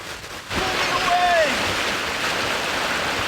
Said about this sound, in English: all this water is going right on the lake. It's a river.